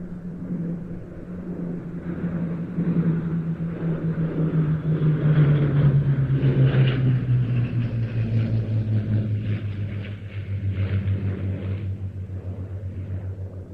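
Two Hawker Hurricanes, one a Mark 1 Battle of Britain survivor, fly past at an airshow, their piston engines swelling from the left into a sustained loud drone with a falling pitch as they pass.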